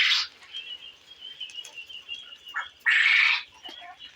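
Caged quail give a few sharp, loud chirps up close, one at the start and a longer burst near the end, with a thin steady whistle-like tone running between them.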